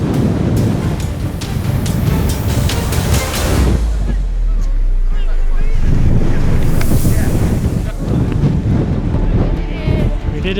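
Strong wind roars across an open hilltop ridge on the Great Ridge near Mam Tor in the Peak District, buffeting loudly and continuously up close with heavy gusts.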